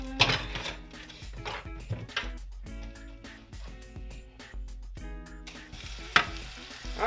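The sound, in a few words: frozen cheesesteak meat sizzling in a skillet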